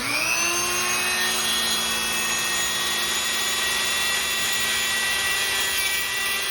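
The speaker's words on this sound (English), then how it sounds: "I'm going to use the Dremel on the highest speed setting" Dremel rotary tool running at its highest speed, cutting away the bearing from a Porsche 986 rear wheel hub, a loud continuous high-pitched whine with a steady grinding hiss and no pauses.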